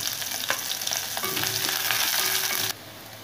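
Fenugreek seeds, garlic, ginger and green chilies fry in hot oil for a fish head curry, giving a loud, steady crackling sizzle that drops abruptly to a quieter hiss near the end, with no voices.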